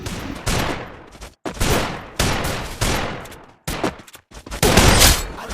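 Rapid gunfire bursts from a video game shooter come in several loud, close, back-to-back volleys separated by brief gaps.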